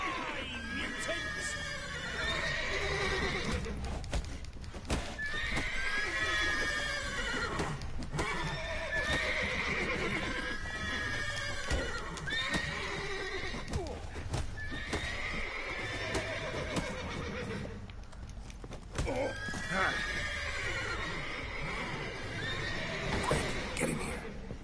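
Horses in The Witcher 3 video game whinny and neigh repeatedly over steady clip-clopping hooves, a busy, fairly close scene with someone talking at times.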